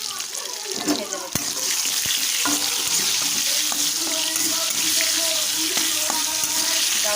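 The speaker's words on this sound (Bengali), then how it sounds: "ব্রাউন ব্রাউন করে ভেজে নেব।" Potatoes fry in hot oil with salt and turmeric, giving a steady close sizzle with occasional stirring clicks and scrapes, while a voice speaks now and then.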